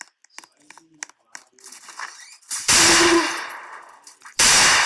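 Gunfire in the Roblox video game: two loud bursts of shots, the first sustained and decaying, the second starting abruptly at the end, following a stretch of quieter clicks and game noises.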